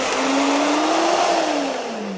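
A portable Cocinare ice cream maker whirs continuously as it blends cream, a close, loud motor tone that wavers slightly in pitch before easing off at the end.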